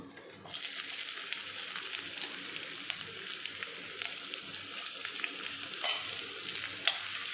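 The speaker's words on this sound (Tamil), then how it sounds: "இப்போ வெங்காயத்தை முதல்ல சேர்த்துக்கலாம்." Chopped shallots frying in a pan with a continuous bright sizzle that starts suddenly and holds steady, close up, with a few stirring clicks and no talk.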